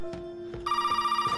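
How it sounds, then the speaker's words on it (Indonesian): Telephone ringing in the horror video game Resident Evil 7, a steady electronic ring tone that starts partway through and repeats in a quick pulsing pattern, fairly close and clear with no talk over it. "Telepon lagi gue."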